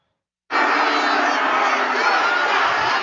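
A large crowd at a Trump campaign rally roars, cheers and shouts in a loud, dense wall of voices that starts abruptly and holds steady.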